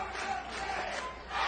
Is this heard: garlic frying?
no